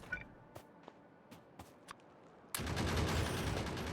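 Automated gun turrets in the factory-building game Factorio open up in a sudden, dense burst of rapid fire after a stretch of scattered quiet clicks and footsteps.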